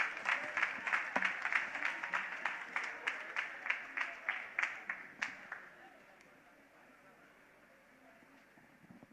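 An audience applauding at a talk: a dense run of claps that holds steady for several seconds, then fades out into quiet room tone.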